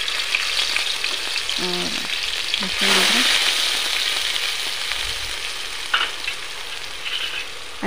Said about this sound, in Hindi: अच्छी तरह से भून लेते हैं।